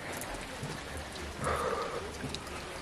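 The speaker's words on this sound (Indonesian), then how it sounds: "Duh, hujan lagi." Rain falls steadily on a village, a dense even hiss of drops on surfaces that fills the whole moment at low to moderate level, with no voices over it.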